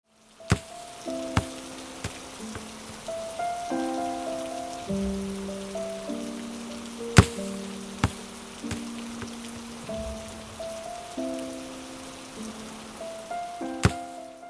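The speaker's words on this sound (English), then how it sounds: "The main components are ball bounces, rain, and music." Sharp thumping bounces recur at irregular intervals over steady rain patter, with soft sustained musical tones playing throughout.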